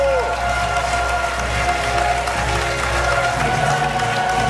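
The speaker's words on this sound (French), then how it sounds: "Applaudissements pour notre prof d'histoire géo." Studio audience applause for a history-geography teacher who is a contestant in a televised quiz final, a steady dense clapping wash with some cheering, alone without clear speech throughout.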